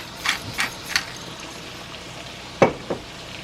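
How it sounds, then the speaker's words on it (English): Seasoned shrimp fry in a pan as they are mixed, producing a low sizzle with a handful of brief utensil scrapes: three spaced early on and two more near the end. "And we're going to mix this up in our pan. Make sure we get all our shrimp covered."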